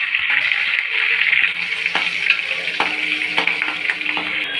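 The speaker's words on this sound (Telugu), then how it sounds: "పోపు సామాన్లు అన్నీ వేసేసింది." Mustard seeds, curry leaves and other tempering spices sizzle in hot oil in a kadai, a steady bright frying hiss with small pops and clicks throughout.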